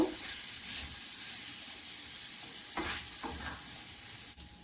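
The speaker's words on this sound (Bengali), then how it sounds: "মশলার সঙ্গে চাল কিছুক্ষণ বেজে নেব" Rice frying with spices in a pot, a steady sizzle throughout with occasional stirring scrapes, close and moderately loud with no talking.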